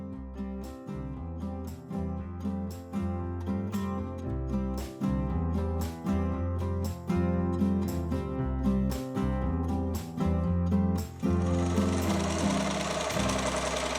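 A BERNINA embroidery machine quilting a fabric block held in a quilting hoop, a loud rapid mechanical needle stitching with regular pulsing bursts, stopping near the end and leaving a soft hiss.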